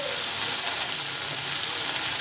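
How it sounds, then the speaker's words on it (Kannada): Cashews, green chillies and spices fry in hot oil for dhaba-style butter chicken, making a steady, close sizzle with no breaks. "ನೋಡಿ ಇದು ಚೆನ್ನಾಗಿ ಫ್ರೈ ಆಗ್ತದೆ"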